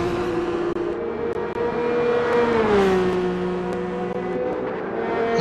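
Race car engine in Gran Turismo 6 at the Red Bull Ring, on soft tyres and sliding: a sustained high engine drone that sweeps in pitch as the car slips, with no talk over it.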